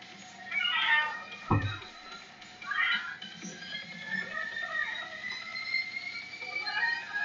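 A pet cat meows in the background, a few drawn-out rising and falling cries over a quiet tonal backdrop, moderately faint.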